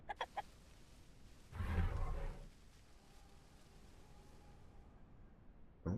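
A chicken in the survival video game The Isle gives a short burst of clucking, fairly close and a little loud, set against a quiet ambient backdrop with sparse clicks.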